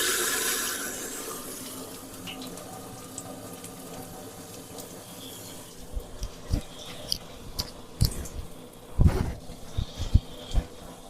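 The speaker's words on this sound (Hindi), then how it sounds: "अभी पंप में पानी आया, देखिएगा।" Water flows out of a Kenstar Ecopure RO water purifier with its pump running, a soft steady rush at first that gives way to uneven splashes and spurts landing close by, with no speech.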